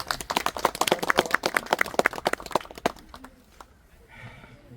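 A crowd at a memorial ceremony marking a unification activist's 100th birth anniversary claps in a burst of distinct, uneven handclaps for about three seconds, then the sound thins out and fades into quiet room tone.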